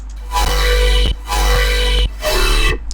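Three sustained synth notes through a plus-minus comb filter, each with a hollow, metallic, flanging resonance, separated by brief silent gaps.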